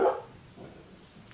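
Dogs give a short, moderately loud bark at a delivery, followed by a quieter trailing yip over room noise.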